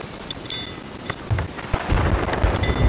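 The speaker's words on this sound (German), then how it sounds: "Ja, Herrgott, wie lang ist denn der Sturm da noch eigentlich?" Heavy rain pours steadily during a storm in Sea of Thieves, with thunder cracking and rumbling over it, the downpour swelling louder toward the end and no voices heard.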